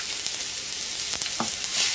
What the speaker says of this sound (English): you're going to set them into the frying pan